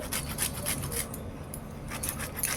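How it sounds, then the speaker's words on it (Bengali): Lemon rind is rubbed over katla fish for flavour, a soft, rhythmic rasping of repeated strokes, close and fairly quiet. "এই যে লেবুর পিঠটা ঘষে দেব, তাহলে কিন্তু দারুণ একটা ফ্লেভার তৈরি হবে"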